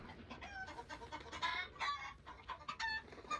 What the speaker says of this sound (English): Hopefully these chickens don't rat me out,